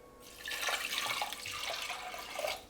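Water pours steadily into a pan of red lentil dal, a close, bright, continuous splash lasting a couple of seconds, with no talk over it.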